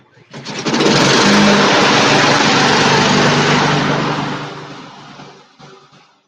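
A Honda engine cranks and catches, then revs loud and steady at close range for several seconds before easing off and dropping away.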